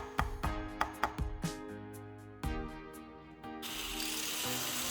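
A staple gun drives staples into a wooden floating shelf to hold a USB hub cord in place. Several sharp clacks come in quick succession, followed by a softer rustle and a steady low background hiss.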